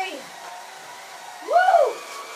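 A vacuum cleaner whirs steadily nearby, its motor pitch rising and swooping briefly near the middle before settling back to a constant hum.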